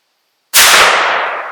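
A single sharp gunshot from the .22LR barrel of a Savage Model 24 .410/.22LR combination gun rings out after a half-second of silence, loud and close, its broad report decaying slowly over the following second.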